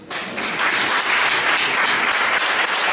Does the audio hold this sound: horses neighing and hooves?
no